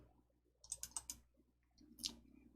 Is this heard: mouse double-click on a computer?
yes